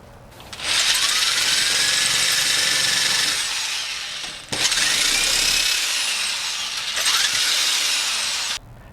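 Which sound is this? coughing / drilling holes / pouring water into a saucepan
drilling holes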